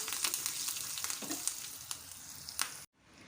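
A tempering of mustard seeds, urad dal, asafoetida and curry leaves frying in hot oil for Mangalore chutney, close crackling sizzle with sharp spatters and stirring clicks, cutting off abruptly to near silence at the end.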